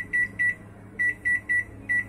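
Short electronic beeps from a microwave keypad, six quick presses in an uneven rhythm, clear and close with a faint hum underneath.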